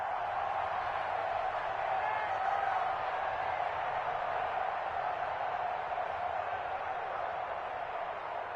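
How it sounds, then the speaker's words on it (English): A football stadium crowd before a third down makes a steady, muffled roar that holds at an even level throughout, with no single cheer standing out. "The crowd getting into it as we come up on a big 3rd down."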